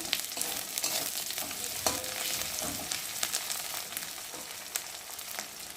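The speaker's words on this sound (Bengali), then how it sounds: "এখন আমি এর মধ্যে দিয়ে দেবো একটু রসুন বাটা একটু আদা বাটা আর কটা কাঁচা লঙ্কা দিয়ে একটু ভালো করে নেড়ে নেব" Garlic paste, ginger paste and green chilies fry in hot oil for a bhola fish curry, a steady close sizzle with occasional light clicks of a spatula stirring, no talking.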